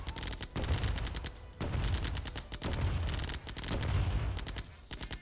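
A turret in the Heavy Metal robot-combat video game fires rapid, repeated bursts of gunfire, loud and dense, in several waves with brief gaps between them.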